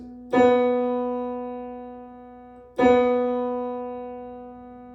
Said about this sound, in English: B on a piano sounds something like this.